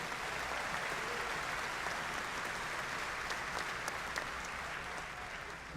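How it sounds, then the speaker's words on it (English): A large commencement audience bursts into steady applause for graduates, a broad wash of many hands clapping at even volume with a few sharper claps standing out. "That's a big round of applause there."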